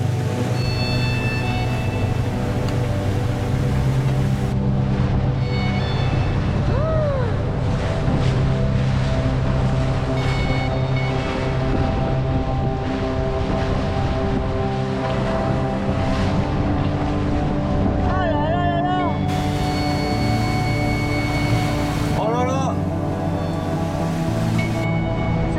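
A boat engine drones steadily through rough sea and strong wind, a loud continuous rumble with roaring gusts and crashing water, plus occasional creaks and whines, with no talking.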